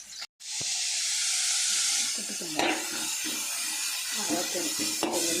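Steady loud sizzling of onions and green chillies sautéing in a hot pan for egg fried rice, with occasional scraping and stirring clatter throughout.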